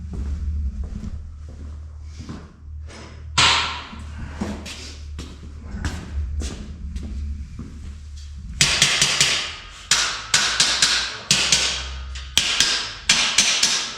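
Hammer blows land on a homemade powder coat booth in a workshop. Irregular, loud, close metallic strikes come in scattered single hits at first, then in quicker bursts near the end, with no talking.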